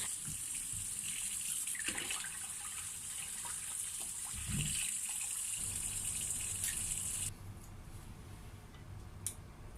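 Tap water runs into a kitchen container for soaking bihon rice noodles, a steady moderate gush that shifts and thins partway through, with no talking.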